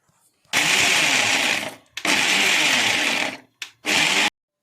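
A mixer grinder grinds peeled garlic cloves and green chillies in loud, steady whirring bursts, a long run, a second long run, then two short pulses separated by brief pauses.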